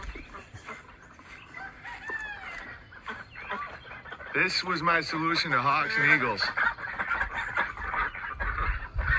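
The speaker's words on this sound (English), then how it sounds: "Baby boomer ducks. Let's say hi to them." Poultry sounds in a backyard pen with ducks and a dug-out pond: excited clucking, crowing and honking calls build into a loud, close chorus over someone talking.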